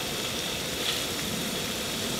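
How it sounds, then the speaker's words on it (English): Constant dense crackle and hiss of bacon sizzling in a pan over a campfire at a winter bushcraft camp, steady and fairly close, with no voices. "the sizzle of the bacon"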